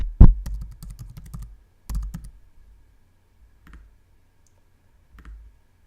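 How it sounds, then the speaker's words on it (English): Keys clatter on a computer keyboard in a quick close burst of clicks, then a second short flurry, followed by a few faint isolated taps separated by near silence. "Guess my typing today is not the best."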